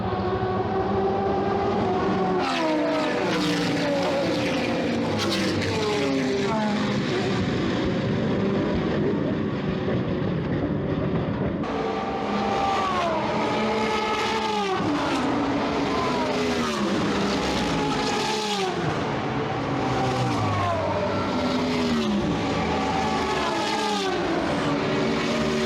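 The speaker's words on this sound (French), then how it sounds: "Pendant que le GT3 Revival tourne" GT3 Revival race cars lap the circuit at a GT World Challenge event, engines howling continuously with rising and falling pitch sweeps as cars pass and shift, loud and dense throughout with no talk.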